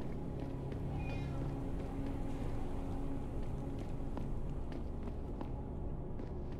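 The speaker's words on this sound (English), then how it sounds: "Kitty." A cat meows once, briefly and faintly, in the video game Deus Ex: Human Revolution, set against a dense, steady ambient city background.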